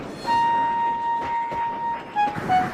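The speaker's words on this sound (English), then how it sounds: "His driver blew his whistle and stopped the train." A train whistle, sounded as a steam engine halts on a hill, gives one long steady tone followed by two short toots, heard at moderate distance over background noise.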